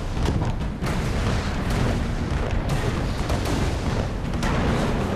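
Cannonballs fired by a crab in the video game Alice: Madness Returns, underwater level, heard as a dense run of loud booming blasts and impacts packed closely together, continuous and harsh throughout.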